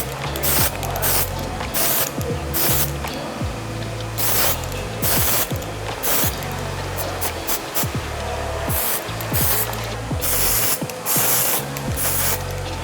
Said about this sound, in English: we're gonna use the texture from that spray to help create added volume